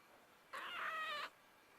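A pet cat gives a single clear, drawn-out meow lasting under a second, close and fairly loud against a quiet indoor background in a flat in Finistère.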